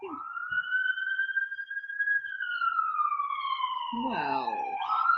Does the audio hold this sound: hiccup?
no